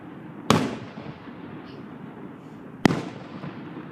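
Fireworks at a Fourth of July display, two sharp loud bursts about two seconds apart, each crackling briefly and fading into a steady low rumble of crowd noise.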